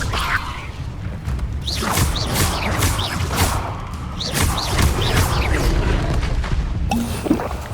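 A fire spell cast in the video game Hogwarts Legacy, heard as repeated roaring whooshes and booming bursts with thuds over a dense, continuous rumble of game sound.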